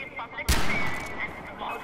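A single sharp gunshot in the video game Far Cry 4, loud and close, followed by a brief decaying tail with background game ambience and a voice speaking over it.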